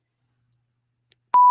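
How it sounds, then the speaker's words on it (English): After a few faint clicks in near silence, a loud, steady electronic beep begins abruptly and holds at one pitch. "Oh, God, that beep."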